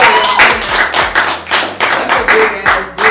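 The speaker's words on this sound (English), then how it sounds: "Clap it up for that" Rhythmic hand clapping by podcast hosts, loud and close, in a steady beat of roughly three claps per second with no talk over it.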